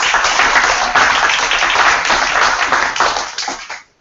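Audience applause for award winners and experts at a national environmental policy session, a dense, loud wash of many hands clapping steadily for several seconds before fading out abruptly.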